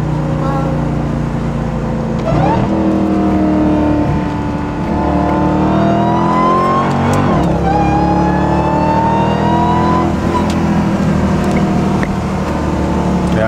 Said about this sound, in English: I'm gonna give y'all some downshifts.